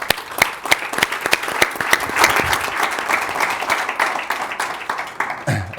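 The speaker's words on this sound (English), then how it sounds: "join me in saying thank you and clapping a lot for our speakers" Conference audience applauding speakers at an energy transition event, a dense, steady wash of clapping from a large crowd that continues for several seconds before tapering off at the end.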